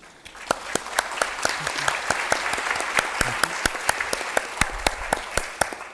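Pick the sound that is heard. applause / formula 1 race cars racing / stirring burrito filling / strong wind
applause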